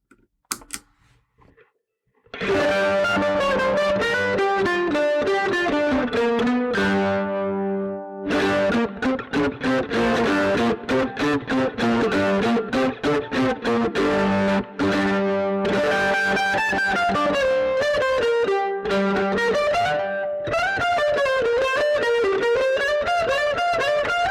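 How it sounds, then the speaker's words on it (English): Electric guitar played through overdrive and distortion effects, loud and continuous, with sustained chords and runs filling most of the passage after a brief quiet start. "a quick example with my overdrive and distortion"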